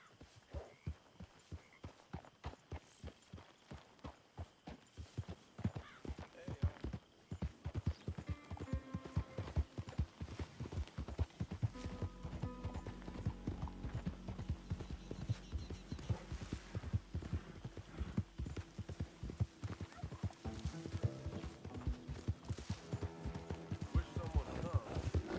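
Horse hooves clip-clopping in the video game Red Dead Redemption 2, a quick steady rhythm of hoof beats that picks up to a faster gait, with game music and voices underneath.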